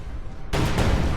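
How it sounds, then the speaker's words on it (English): A mortar fires in the real-time strategy game Company of Heroes 2, a sudden loud blast that cuts through quiet background ambience and is followed by a second thump and rumbling battle noise. "You see a mortar now from Kim.Jong.Un."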